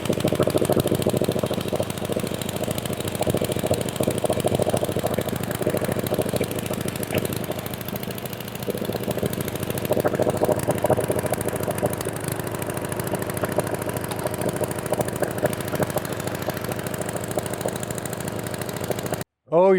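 A Troy-Bilt Junior tiller engine, newly brought back to life, runs at a steady idle with a close, continuous putter and light vibration, holding throughout before cutting out abruptly at the end.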